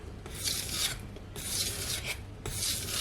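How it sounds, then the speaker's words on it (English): A knife edge is sharpened on a Naniwa whetstone with crescent strokes, giving three bursts of steady rasping scrape separated by short pauses, close and fairly loud with no talking. "I will do a couple of stuff with 10 of these crescent strokes to even out the"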